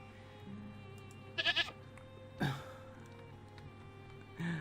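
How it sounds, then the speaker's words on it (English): A goat bleats in the farming video game Farthest Frontier, with a few short, raspy calls over a steady background of game ambience and music. No one is speaking. "That's what the goat thinks of him."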